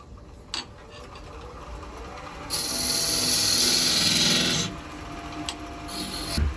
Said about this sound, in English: And we'll scrape that out with a French curve scraper.